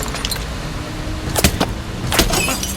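A car speeding away in a tense film escape scene, with a constant motor-like noise broken by two sharp, loud bursts, and no speech.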